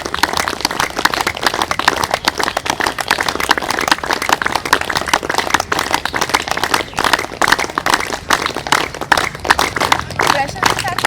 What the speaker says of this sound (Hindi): और अब करेंगे ताली वादन